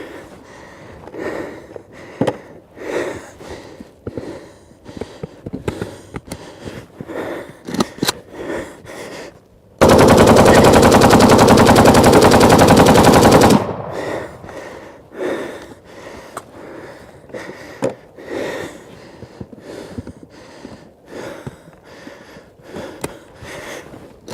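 Kalashnikov rifle fired until its rounds cook off, a sustained dense roar of automatic fire lasting about four seconds, set between stretches of sharp, scattered clicks and handling noises.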